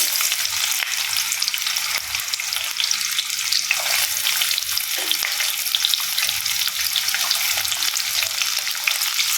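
Steady, crackling sizzle of onions frying in oil with cumin seeds, medium-size onions in a pan, close and continuous with faint stirring clicks and no talk.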